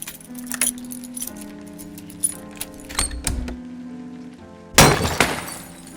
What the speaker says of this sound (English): Damn keys won't work.